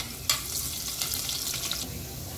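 Garlic and curry leaves frying in hot oil, a soft continuous crackling sizzle with a few brief louder spatters, fairly quiet and heard alone.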